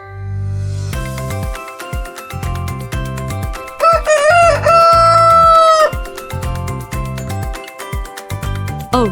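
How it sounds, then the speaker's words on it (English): A rooster gives one loud, drawn-out cock-a-doodle-doo over rhythmic background music, rising then holding before it fades back into the beat. "A rooster."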